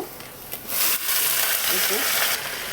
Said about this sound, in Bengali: এবার আমি লাল শাকটা দিয়ে দেব।